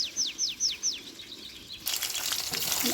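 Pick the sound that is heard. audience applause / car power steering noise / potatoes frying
potatoes frying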